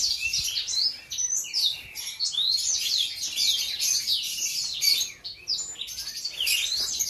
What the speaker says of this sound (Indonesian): Ada banyak lovebird di sini.